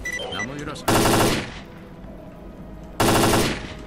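Automatic gunfire in the shooter game S.T.A.L.K.E.R. Clear Sky during a corridor fight with a sniper, two loud, sharp bursts a couple of seconds apart, with quieter game ambience and faint tones between them.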